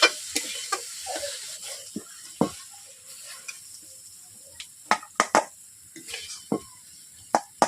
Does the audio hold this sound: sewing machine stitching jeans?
no